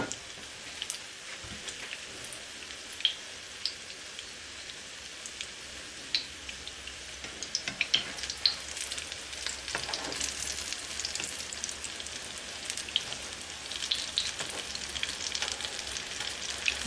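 Chicken and lentil shami kebabs fry in oil with a steady crackling sizzle and scattered sharp pops, close and continuous throughout, with no voices.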